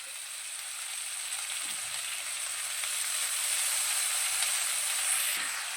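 Banana flower dropped into hot spiced oil in a pan, giving a steady, fairly soft broadband sizzle and hiss that swells slightly toward the end, with no talking.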